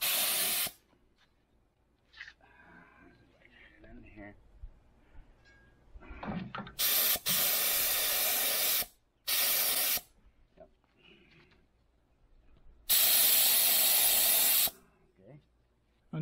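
Paint spray gun coating a milling machine in bursts of loud steady hissing, several sprays of a few seconds each separated by quiet pauses with faint handling noises and occasional talk.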